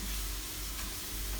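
Garlic sizzling as it fries in a pan for a noodle and kwetiau stir-fry, a steady dense crackle throughout, close and fairly loud, with no talking.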